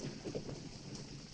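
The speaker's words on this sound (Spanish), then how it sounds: "¿Sabés cómo le viene esta lluvia al campo?" Steady rain pours over a countryside field, a continuous broadband hiss with soft patters, fairly loud and unbroken, with no voices.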